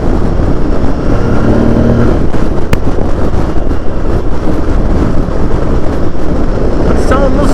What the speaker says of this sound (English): God, the intake noise on this thing.